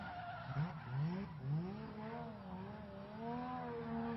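A Mazda RX-7 drift car on a Spec-D qualifying run at Radtorque Raceway. The engine note rises and falls in steady sweeps, with tire skidding along the track, at a moderate distance with no talk.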